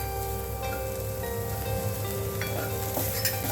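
Tomatoes go into a hot pan of sautéed vegetables for sprouts upma, giving a steady close sizzle with light stirring scrapes, with no voices.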